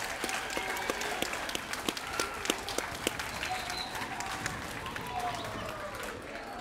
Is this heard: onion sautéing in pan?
no